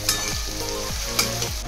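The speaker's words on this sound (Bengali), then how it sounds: "পেঁয়াজ ভাজছি" Close, loud sizzling of onions in hot oil, a continuous bright crackle with a couple of sharper spits over a repeating low hum.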